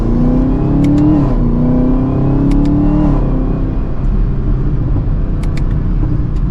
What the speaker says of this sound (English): Get some pops in that factory exhaust.